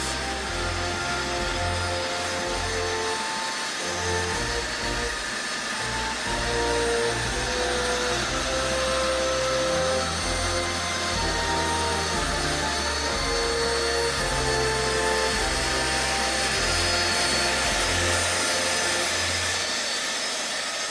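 An Airbus A320 jet airliner's engines whine and roar steadily, a continuous close drone with shifting tonal hums throughout, no talking.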